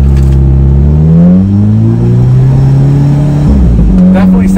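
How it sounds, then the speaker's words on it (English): Alfa Romeo 4C with a Magnaflow aftermarket exhaust accelerating from 0 to 25, a loud, close engine rising in pitch through one gear, briefly dropping at a shift, then climbing again. "All right, same thing, 0 to 25 with the Magnaflow exhaust."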